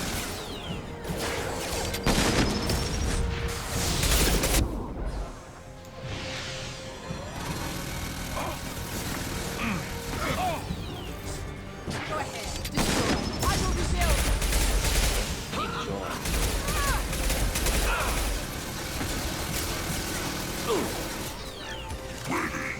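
Gunfire and mechanical clanks during combat in Mass Effect 2, irregular bursts and crashes layered over game noise, with voices talking throughout.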